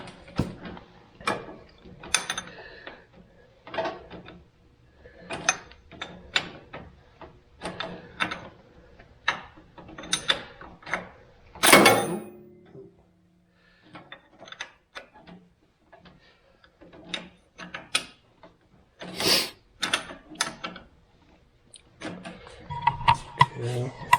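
Wrench work on bolts of a split Massey Ferguson Super 90 tractor: a series of sharp metallic clicks and ratcheting ticks in irregular bursts, close by, with a few louder clanks and some speech between them.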